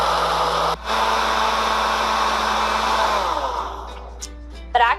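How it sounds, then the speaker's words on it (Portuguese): Blender running at medium-high speed mixing carrots, oil and eggs, a loud steady motor whir close up that changes pitch briefly near the start, then winds down at the end with a few clunks. "Eu deixo batendo em velocidade média para alta no liquidificador e ela fica bem misturada"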